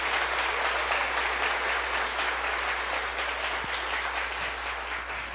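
A large church congregation claps steadily and loudly, sustained applause that holds throughout and tapers only slightly toward the end.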